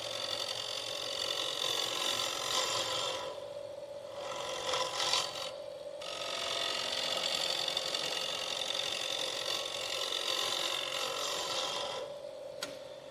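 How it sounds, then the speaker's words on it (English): A woodturning gouge takes light shear cuts on a spinning lathe workpiece, giving a steady scraping rasp over the machine's hum, with two brief pauses where the tool lifts off. "working this little bit of bits to be a shear cut on the bottom. And I just have to take light cuts"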